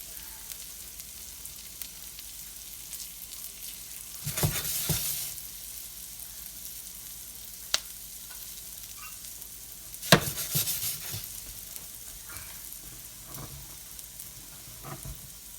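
Garlic frying in melted butter in a pan, a low steady sizzle with occasional stirring scrapes and a couple of louder utensil knocks.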